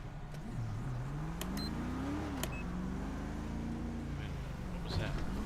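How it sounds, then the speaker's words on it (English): A car engine in the video game GTA 5 hums and revs with rising and falling pitch, steady and continuous, with a few short clicks and beeps over it. "That sounded like the car."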